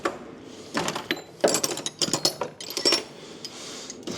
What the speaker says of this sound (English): So let's grab a ratchet.